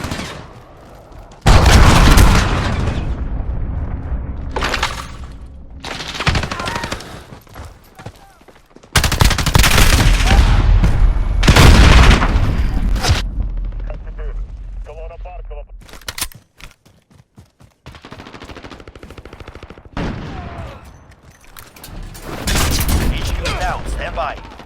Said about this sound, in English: Enemy cruise missile, take cover.